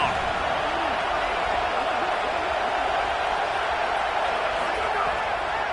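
A loud, dense stadium crowd roars steadily on third down in an NCAA college football video game, a constant wash of noise with speech mixed in.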